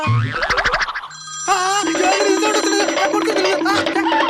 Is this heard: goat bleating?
no